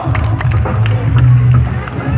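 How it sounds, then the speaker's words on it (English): An audience at a sea lion show at Manila Ocean Park claps and cheers, lively scattered applause rising and holding under a background of crowd chatter. "they deserve another round of applause"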